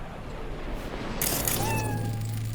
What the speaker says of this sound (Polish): Ja sobie kotka pogłaszczę.